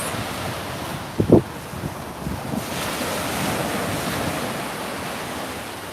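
Ocean surf on a Gulf of Mexico beach in South Florida, a steady wash of waves under wind noise on the microphone, with a brief knock near the start and no talk.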